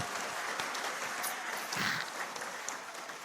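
A packed hall audience applauds LDI at a talk by Anies Baswedan, sustained mixed clapping from many hands, moderately loud and even with a few crisper individual claps near the front.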